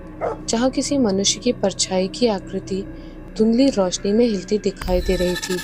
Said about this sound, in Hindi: कुत्ता बेचैनी से भौंक रहा था